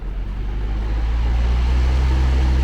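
Caravan roof fans running on high speed, a loud, steady whooshing roar with a low droning hum that holds unbroken throughout, no voices over it.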